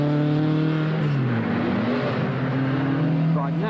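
A Ford Escort rally car engine idling and revving loud and close on the final day of the 1978 rally in New Zealand, its steady harmonic drone dipping and climbing as the throttle is blipped.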